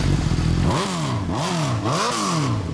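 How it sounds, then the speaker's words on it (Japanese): A 2005 Kawasaki Ninja 250 with an Akrapovič exhaust idles loudly nearby, then revs up and drops back three times, its pitch climbing and falling in smooth swells. "エンジン音聞かせてもらえるかな。"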